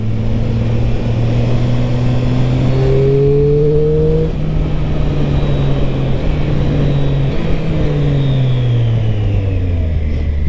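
A 2023 Triumph Street Triple RS motorcycle accelerates hard, its engine note climbing in rising sweeps broken by quick clutchless quickshifter gear changes, loud and close from the rider's position over constant wind rush, with no talking.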